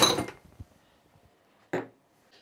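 Crushed ice and water are dumped out of a chilled cocktail glass with a short rattling clatter, followed by a few faint knocks and a second brief glassy clink, close and otherwise quiet.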